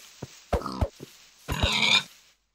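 A pig in Minecraft grunts in two close, clear groups of short snorting grunts, the second longer, with silence around them.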